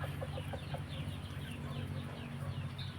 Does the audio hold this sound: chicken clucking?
yes